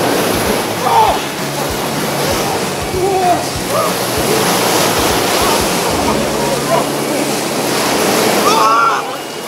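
Sea surf washing steadily on a Black Sea shore in winter as a football team with coaches and club management plunge together into the cold water for Epiphany, with wind noise and distant voices and splashes over the continuous wash of waves.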